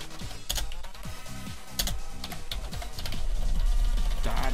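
Rapid typing on a computer keyboard, close and crisp, with clusters of clicking keystrokes in uneven bursts over a steady background of game music.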